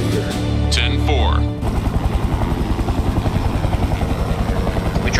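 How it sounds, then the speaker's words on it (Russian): Helicopter in the video game Serious Sam 3 BFE, a steady rhythmic rotor chop that follows a short burst of game noise and carries on loud and close to the end. "Ну что, собьют вертолет"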